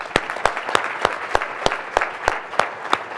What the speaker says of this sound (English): giving this panel one last round of applause